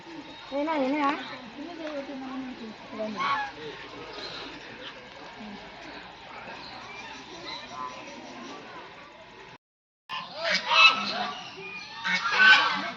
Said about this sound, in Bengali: ঢুকেই দেখো এখানে কি সুন্দর রাজহাঁসগুলো।